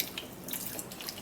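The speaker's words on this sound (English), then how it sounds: "for this particular one, we're going to be putting in a little bit of water" Water poured into a drink mixture of garden egg and ginger, a short continuous splashing trickle heard up close with no speech.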